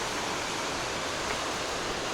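A Colorado backcountry creek runs beside a hiking trail, its water rushing in a steady, close, broadband wash that stays even throughout with no voices.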